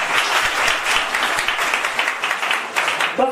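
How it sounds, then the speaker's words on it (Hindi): Seminar audience in Jhansi breaks into loud, vigorous applause, a dense wash of many hands clapping continuously at close range. "फिर से एक बार आप सबके लिए जोरदार ताली हो जाए।"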